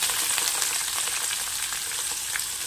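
Sliced potatoes and garlic fry in hot oil with a steady, dense sizzle that holds at an even level from start to finish, with no voices.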